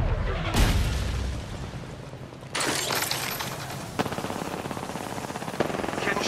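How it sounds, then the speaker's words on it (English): Gunfire in Apex Legends: an opening blast with a shattering crack, then a lull, then close, loud bursts of rapid automatic fire with sharp impacts. "Getting shot at."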